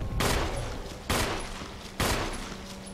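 Three loud gunshots from the Resident Evil HD Remaster video game, evenly spaced about a second apart, each a sharp blast with a decaying tail and no talking.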